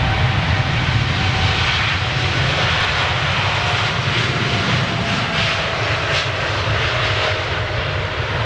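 A Boeing 747 jet on its final flight takes off, giving a loud, steady roar of engines with a sustained rushing, droning tone and no talking.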